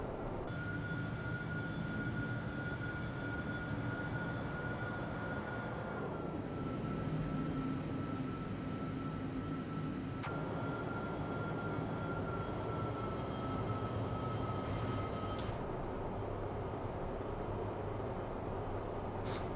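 An Airbus A350 in a flight simulator game passing by, a sustained jet engine roar with a steady high whine whose pitch drops midway as the aircraft goes past, alone without talk.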